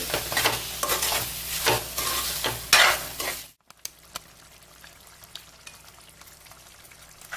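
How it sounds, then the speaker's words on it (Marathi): Prawns stir-fried with masala in a pan make steady, close sizzling and scraping stirs that break off abruptly partway through, leaving only a faint, low background hiss. "हे अशा प्रकारे पण मसाल्याबरोबर चांगले परतून घेऊ"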